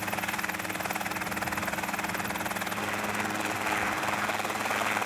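A helicopter taking off with an instructor and student aboard, its rotor producing a loud, continuous chopping thrum with a steady turbine whine that stays strong and close throughout.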